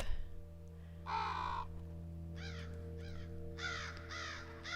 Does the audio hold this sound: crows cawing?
yes